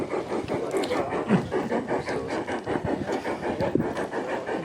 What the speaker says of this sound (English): let's watch some trains as they navigate the desert garden.